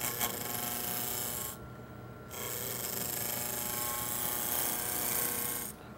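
A spindle roughing gouge cuts a wood spindle turning on a lathe, giving a steady, loud rasping scrape that drops out briefly midway, then resumes and continues near the end.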